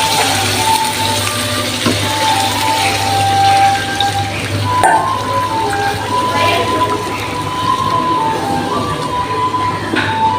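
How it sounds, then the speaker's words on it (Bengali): Hot water pours into a pot of sautéed rice, a steady rushing, gushing pour with bubbling that runs loud and continuous throughout, with a low hum and some background noise under it. "গরম পানি বসাইছি, গরম পানিটা দিয়ে দেবো।"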